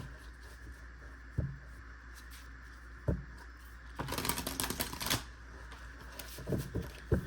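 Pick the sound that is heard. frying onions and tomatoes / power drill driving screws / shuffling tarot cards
shuffling tarot cards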